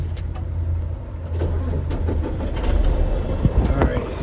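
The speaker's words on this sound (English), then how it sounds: "So we got the truck going." Diesel truck engine idling with a steady low rumble, rising slightly as it runs, with outdoor background noise and a few clicks.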